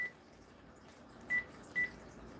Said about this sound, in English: I'm going to go to the site right now and call their phone number